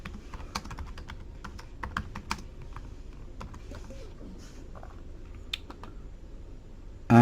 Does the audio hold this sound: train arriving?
no